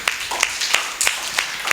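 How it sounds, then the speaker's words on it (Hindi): A small group claps in a room at a spiritual study camp session, with sharp, uneven claps scattered over a steady background hiss and no clear voices. "तालियां हो जाए भाई"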